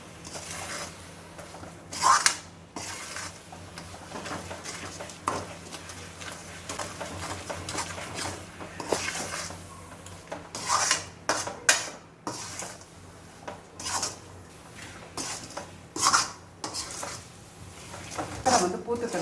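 A spoon stirs and scrapes a pan of coconut burfi mixture cooked with ghee, giving irregular clinks and scrapes close by under a speaking voice.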